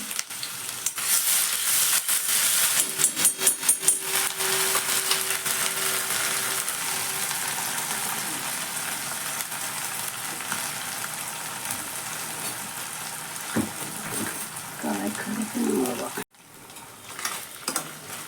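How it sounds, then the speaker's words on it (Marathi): Onion with ginger-garlic paste and mustard seeds sautéing in hot oil in a pan, a steady close sizzle and crackle throughout with occasional stirring scrapes, fading briefly near the end. "कांदा छान परतून घ्यायचा आहे असा"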